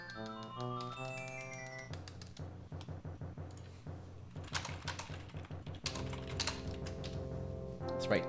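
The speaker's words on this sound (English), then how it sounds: "That's right, typing during a speedrun, insane." Typing on a computer keyboard during a Super Mario Bros. 3 speedrun, a quick run of close, clicky keystrokes in bursts, layered over chiptune game music.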